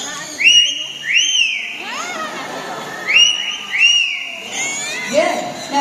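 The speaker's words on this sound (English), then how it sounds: "And now whistle." At Cebu Safari, a talking bird whistles in a series of rising and falling chirped notes, repeated several times in short bursts, close and fairly loud, with faint background noise around them.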